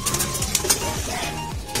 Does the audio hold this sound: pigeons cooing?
yes